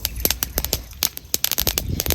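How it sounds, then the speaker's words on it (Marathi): Flaxseeds roast on a hot pan, giving a dense run of sharp, close crackles and pops in quick irregular succession. "आणि चांगलं तडतड होतपर्यंत आपल्याला ही जवास भाजून घ्यायचे"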